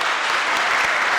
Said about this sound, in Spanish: Aplauso para la hermana.